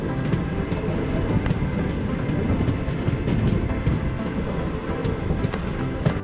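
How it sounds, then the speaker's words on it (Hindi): The historic Karnataka Express rolls steadily through mountain valleys with a continuous near rumble of wheels and rail clatter and faint rhythmic clicks, no voices. "ये सुंदर सुंदर घाटियों के बीच से हमारी लेजेंडरी हिस्टोरिकल कर्नाटका एक्सप्रेस गुजर रही है"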